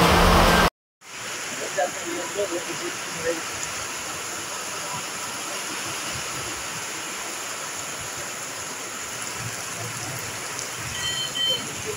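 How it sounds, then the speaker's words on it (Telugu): Light rain falling over the town of Darsi in the evening, a steady broadband patter and hiss that runs continuously after a brief silent gap near the start. "దర్శి పట్టణంలో ఈ రోజు సాయంత్రం 5 గంటలకు ఆకాశం మేఘావృతమై వాతావరణం చల్లబడి వర్షం ప్రారంభమైంది."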